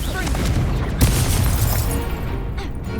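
A Confringo fire curse blasting in Hogwarts Legacy combat, a loud booming burst with crackling debris over dense, continuous battle noise and spell effects, fading into a rumbling tail.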